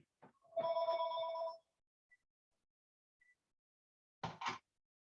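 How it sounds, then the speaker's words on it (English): A telephone rings once with a bright electronic tone, followed by a few faint clicks and then two quick knocks, all in an otherwise quiet room. "Sorry, there's a phone. Let me shut it up."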